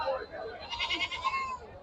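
Goats bleat in quick wavering cries amid a busy crowd at a goat market, with voices and market noise close by.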